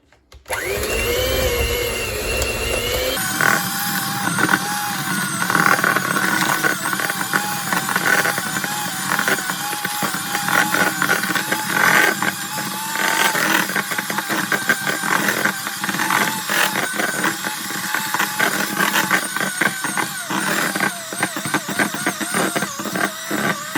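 Wendy runs an electric mixer through food, a steady loud whirring drone that starts abruptly after a brief moment and holds nearly unchanged for over twenty seconds, with faint clatter along the way.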